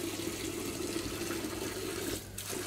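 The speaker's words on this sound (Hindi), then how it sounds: "पानी आ रहा है" Water running steadily from a tap while a government house is washed and cleaned, a constant close splashing hiss that briefly dips near the end, with no voices.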